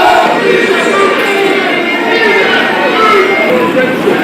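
A large crowd of Yellow Vest protesters fills the air with a dense, continuous murmur of voices and scattered shouts, loud and steady throughout.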